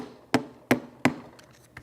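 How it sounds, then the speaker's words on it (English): A ball peen hammer gently taps a screwdriver against the cylinder of a Dake B-10 utility press: three crisp, evenly spaced metallic knocks, then a couple of softer trailing taps, close up and alone. "A ball peen hammer, and I gently tap,"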